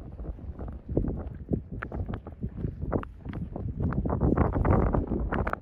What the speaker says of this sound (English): It's wind, 20, 30 mile an hour wind